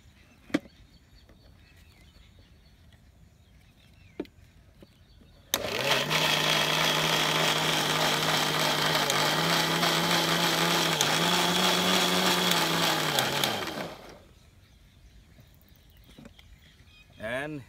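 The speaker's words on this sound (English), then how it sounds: "I will just give a small spin in the mixer" A countertop mixer blends a moringa powder smoothie, starting abruptly with a loud, steady whir that runs for about eight seconds and then cuts off, with quieter room sounds before and after.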